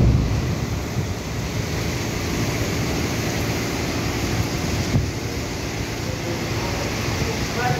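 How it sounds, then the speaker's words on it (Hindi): Stormy weather in Haldwani roars as a steady broad rush of wind and rain close to the microphone, continuous and fairly loud with buffeting gusts. "भयंकर तूफान के साथ बारिश आते हुए यहाँ पर।"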